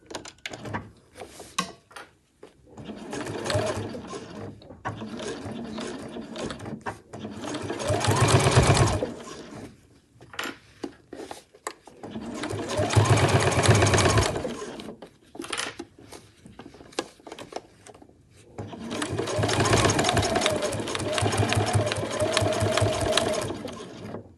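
A sewing machine runs in three long stitching bursts along a backpack side seam with a 1 centimetre seam allowance, close and steady, with short pauses and handling clatter between runs.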